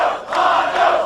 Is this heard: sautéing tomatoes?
no